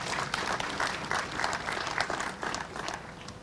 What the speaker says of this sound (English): Please give her a round of applause for being here.